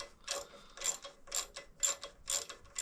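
Quiet, close ratcheting bursts come in a regular rhythm of about six strokes as nuts are tightened onto short bolts with washers on a custom shed-built bobber motorcycle.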